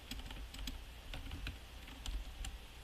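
Keystrokes tapping on a computer keyboard while a new folder's name is typed, a steady run of quick clicks close up with a few louder strikes and no voices.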